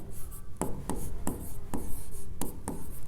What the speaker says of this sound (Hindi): तो अब लिखता हूं